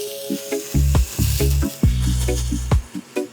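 Honey garlic pineapple prawn skewers sizzle loudly on a hot griddle pan, with bursts of crackling and hissing that swell and fade in waves at close range.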